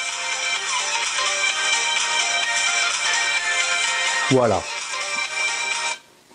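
Music plays steadily from an Ulefone T1 smartphone loudspeaker, thin and bright, then cuts off abruptly near the end; someone speaks a single word.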